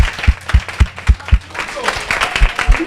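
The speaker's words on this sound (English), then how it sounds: "So clap on yourself as well." An audience at a youth community chat event in Manchester claps in spaced, punchy bursts at first, then settles into looser, overlapping clapping, close and moderately loud.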